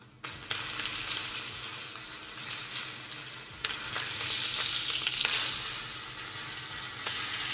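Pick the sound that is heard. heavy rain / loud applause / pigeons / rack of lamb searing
rack of lamb searing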